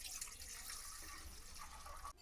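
Water runs steadily into a cooking pot being filled to boil pasta, a continuous close rushing splash that cuts off abruptly near the end.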